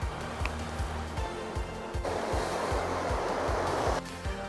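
Ocean waves surge onto Nakanora Beach on Shikinejima island, a steady roar of surf with a bigger breaking wave swelling loud in the middle, close and continuous with no talking.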